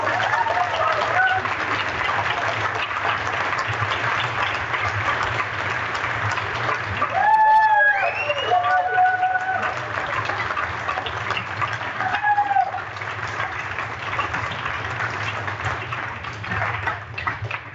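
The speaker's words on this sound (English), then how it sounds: "Guys, can you give David a round of applause?" Audience applause at a cult cinema Q&A screening event in Hull, steady clapping filling the whole stretch with a few voices and whoops rising briefly midway.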